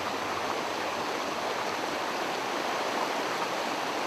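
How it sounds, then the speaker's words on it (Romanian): Rushing water of the Sebeș, a turbulent mountain river in Transylvania, pours as a steady, dense broadband roar that stays loud and unbroken throughout, with no voices. "Se află undeva în țara Ardealului, între ținuturile Nidoarei și Albei, o apă viforoasă, scria Sadoveanu."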